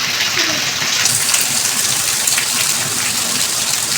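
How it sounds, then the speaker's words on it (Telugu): Steady heavy rain pours in a dense, continuous hiss, loud and close, with no breaks and no voices. "వాన ఫుల్గా పడుతుంది"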